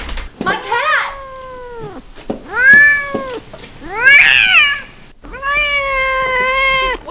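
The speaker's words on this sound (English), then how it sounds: "What is it? My cat!" A cat trapped inside a vent meows repeatedly in long, drawn-out, plaintive cries with a slightly hollow ring, four distinct calls spaced over several seconds.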